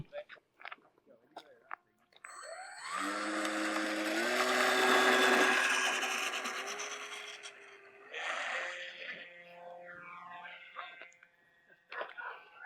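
Electric motor on a ZMR 835 balsa and plywood RC airplane kit in flight at about three-quarter throttle: a whining tone rises in pitch, holds steady for several seconds, then fades, with a shorter burst later and faint voices around it.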